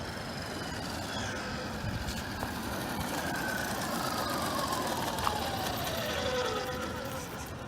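A Redcat Shredder 6s RC truck with a power upgrade, driving and pulling wheelies, gives off a constant electric-motor whine with rising and falling pitch sweeps over a rough rumble. It sounds moderately distant.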